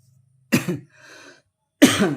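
Two sharp, harsh coughs from a person who is unwell, about a second apart, close and loud, with a faint breathy sound between them.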